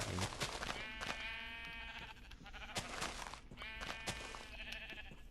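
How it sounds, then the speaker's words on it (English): Sheep bleat repeatedly in a blocky survival video game, several wavering calls overlapping one another at close range over steady game ambience, with no talking. "we got some sheep over here"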